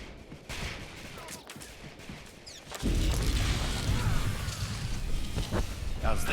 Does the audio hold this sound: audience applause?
no